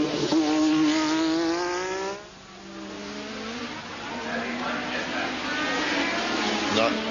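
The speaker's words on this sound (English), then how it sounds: "Nice, healthy sounding engine." A 1985 Australian Grand Prix Formula One car comes down toward the hairpin before the pits, its high engine note rising, dipping as it slows, then climbing again as it accelerates past, heard beneath a commentator's voice.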